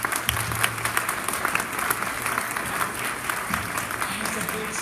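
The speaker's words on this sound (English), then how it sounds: "Let's give Betsy a round of applause." Lunch-and-learn audience applauding after a talk on the Dutchman's Curve train crash, a dense, steady round of clapping at fairly close range with faint voices mixed in.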